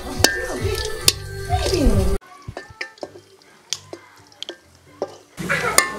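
Spinach tempered with onion and dried chili frying over a clay village stove, crackling and sputtering with sharp pops and stirring clatter, the sizzle dropping off midway then returning loudly.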